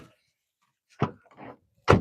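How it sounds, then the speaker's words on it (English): A car's back door is shut without latching properly, giving two dull thunks close by separated by a short rustle, in otherwise quiet surroundings. "He says, not shutting the back door properly."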